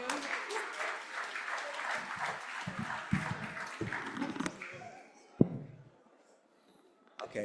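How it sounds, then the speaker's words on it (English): An audience at a synagogue Yom Kippur symposium gives the presenters a dense round of applause that holds steady for about five seconds, then thins and fades to near silence. A voice is heard briefly in the mix. "You can start by giving them all a round of applause."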